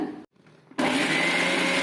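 A brief motor whir, a short pause, then a loud, steady high-pitched grinding roar from a kitchen mixer grinder running continuously while grinding onion chutney.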